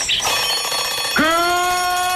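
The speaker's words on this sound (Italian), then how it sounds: "Questa è la nostra sveglia" An alarm clock goes off in a radio studio, cutting in with a sudden steady electronic ring that holds on loudly after a brief burst of other sound.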